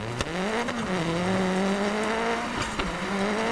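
Virtual MINI Countryman rally car in DiRT Rally running on bare wheel rims after losing its tires, a loud close engine drone with shifting pitch and scraping rim noise, several abrupt transients.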